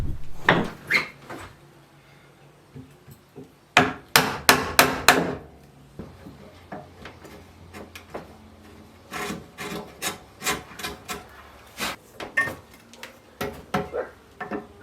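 A wooden mailbox post being chiselled to clean out a square mortise: bursts of sharp mallet-on-chisel knocks alternate with scraping, paring strokes in an uneven working rhythm, close and fairly loud, with no speech.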